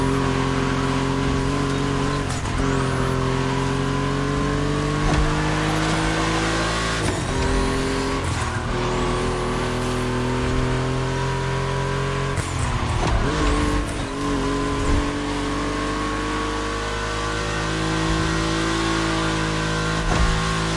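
Volkswagen race cars in The Crew roar around the track, engines rising and falling through gear shifts with occasional tire squeal, loud and continuous throughout.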